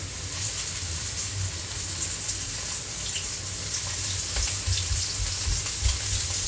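Fish katsu, cut from freshly caught mackerel, amberjack or perch, fries in a pan with a loud, steady hiss and crackle, close by and continuous, with no talk.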